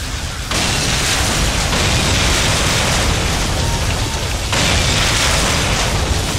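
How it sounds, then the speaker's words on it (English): A particle cannon blast in the strategy game Generals Zero Hour: a sustained loud roaring, crackling wash of noise that swells again partway through, with no talking. "Particle cannon activated."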